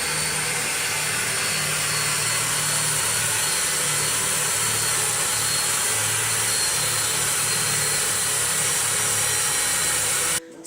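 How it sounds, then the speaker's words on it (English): Electric drill boring a hole in wood for a dowel perch on a bluebird nest box, a steady sustained whine running unbroken for about ten seconds before cutting off abruptly. "now he's going to make the hole for the wooden dowel to go in that gives the Bluebird a perch to sit on"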